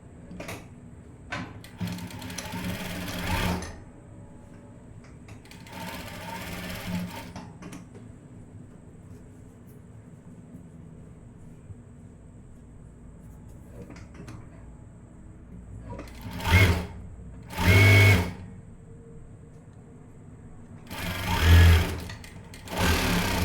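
Sewing machine stitching the side seam of a blouse, running in short separate bursts, a few longer runs early on and several brief loud ones later, with quiet handling noise between.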